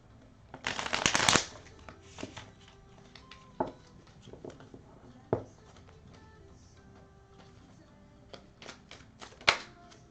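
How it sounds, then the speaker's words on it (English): Playing cards being shuffled, a loud riffling burst near the start followed by scattered quieter flicks and taps of the deck, close up and mostly alone. "That card, as I was shuffling, came out."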